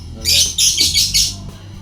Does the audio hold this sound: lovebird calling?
yes